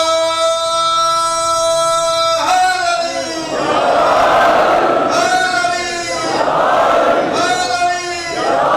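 A large mourning gathering at a Muharram majlis responds to a leader's call with loud chanted slogans, a single voice calling out followed by the whole crowd roaring back in unison, repeated in waves.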